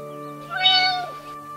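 A single drawn-out cat meow from a cartoon cat in an animated fairy tale rises clearly over a steady, held musical tone. It is loud and close, with no talking.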